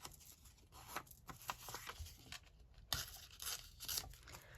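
Paper being cut down for a paper-bundle journal: quiet, irregular snips and tearing rasps with rustling crinkles between them, close and fairly faint, no talking.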